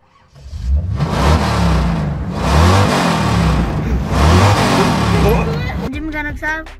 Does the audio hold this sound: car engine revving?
yes